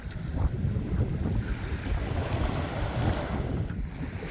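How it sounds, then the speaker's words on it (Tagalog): Steady, broad wind rushing across the microphone on a beach, with a faint wash of surf beneath and no talking. "Dito tayo sa playa, mahangin na naman."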